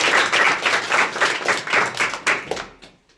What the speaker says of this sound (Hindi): चलिए ऋषिकेश के लिए ताली बजाइए